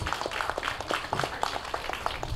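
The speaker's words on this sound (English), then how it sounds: "Let's give her a big round of applause, please." An audience at a 2013 sports tournament opening ceremony gives a round of applause, with a steady stream of moderately faint, quick claps that runs the whole way through.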